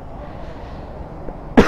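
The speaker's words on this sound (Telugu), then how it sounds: "నాకైతే ఫుల్ కాఫ్" One short, sharp cough bursts out near the end after a stretch of quiet background noise during a short ride out with friends.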